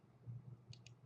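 Two small, quick computer mouse clicks, close and faint, over a low background hum while cancelling a photo search in Adobe Bridge CS5.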